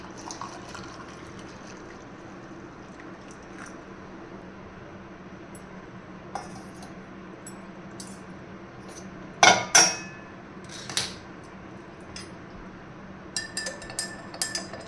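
A spoon stirs detox water in a teacup, giving a few sharp close metallic clinks in quick bursts toward the end, over a quiet room hum with no talking.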